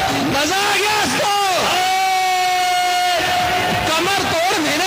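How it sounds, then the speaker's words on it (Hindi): A large crowd cheers and yells loudly and continuously, with whoops and shouts rising over a dense roar of voices. "हमारे युवा प्रवक्ता राघव चड्ढा के लिए बहुत तालियां बजाइए"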